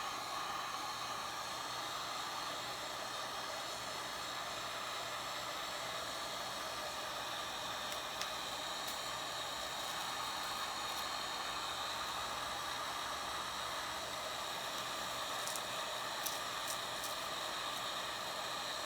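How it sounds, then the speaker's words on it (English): Steady broadband blowing hiss of a heat gun drying watercolor paint on a doodled background, continuous and fairly loud for the whole stretch, with no talking. "Let's get the heat gun."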